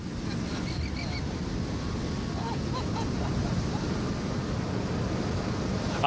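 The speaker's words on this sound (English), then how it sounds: "the water is pushing right into the parking lot in here." Big ocean waves surge water into a beach parking lot in Los Angeles, a loud, steady roar of surf and rushing water with wind, and faint honking calls barely audible underneath.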